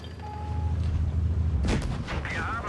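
A tank cannon firing in World of Tanks Blitz, a deep booming blast partway through over low rumbling engine and battle noise, with a sharp crack and ringing tail after it.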